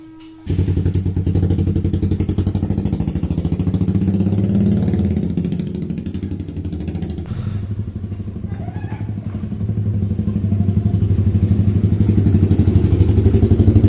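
A motorcycle engine fires up after a brief start, then runs loud and close with a steady thumping idle that rises and falls as the rider revs and pulls away, without speech over it.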